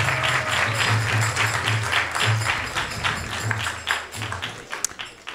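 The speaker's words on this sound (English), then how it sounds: "let's give him a round of applause" Round of applause from an audience at a Bhagavad Gita talk, sustained clapping with a low hum underneath, gradually thinning toward the end.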